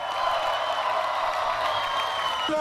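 An audience at a send-off for Ukraine's Euro 2016 football squad applauds in a dense, steady wash of clapping, with crowd noise and cheering throughout, loud and sustained.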